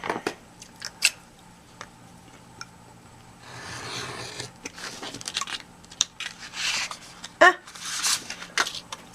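Scissors cut through paper for a folio, snipping and rustling in short irregular bursts at close range, with soft handling noises between cuts.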